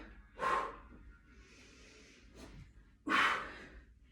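Two forceful exhaled breaths during a strength and mobility workout, each a sharp, breathy puff close to the mic, with a softer breath in between and quiet pauses around them.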